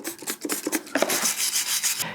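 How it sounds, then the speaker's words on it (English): A stiff hand brush scrubs POR-15 degreaser across a greasy surface, giving close, repeated rasping strokes in an uneven rhythm that grow denser and steadier toward the end. "So I'm going to take a stiff brush and start brushing on it."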